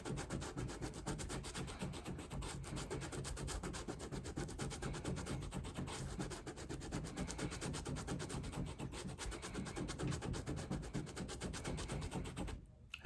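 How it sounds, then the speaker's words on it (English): Suede eraser rubbing back and forth on the suede of Jordan 5 Raging Bull sneakers, a fast, even scrubbing texture, close and fairly quiet, stopping abruptly at the end. "I'm gonna hit this with the suede eraser again"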